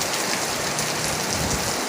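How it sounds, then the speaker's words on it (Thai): Steady rain drums on a metal sheet roof, a dense continuous hiss of close, loud patter with no pauses and no voices. "ผมเอาฟังเสียงฝนดีกว่าครับผม"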